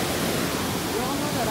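Swollen Tinau river in Butwal rushing after heavy rain, a steady broadband roar of fast-flowing water filling the whole moment without pause, moderately loud and unbroken.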